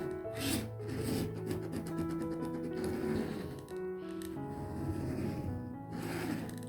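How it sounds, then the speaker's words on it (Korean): Sandpaper rasps rhythmically back and forth across leather in quick, even strokes, close and continuous throughout, roughing the leather edges before gluing while making a vintage card wallet. "여기를 이렇게 사포질을 해주시면 돼요."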